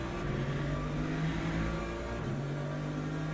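An LMP2 race car passing in the Le Mans Ultimate racing game, a fairly quiet engine note that holds steady and then shifts pitch as it goes by, with no talk.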